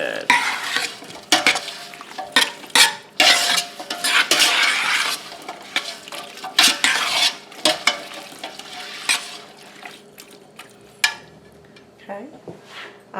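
A spoon stirs beans and tomatoes with beef bouillon in a pot for taco soup, giving repeated scraping and clinking against the metal, with light sizzling and a voice speaking over it.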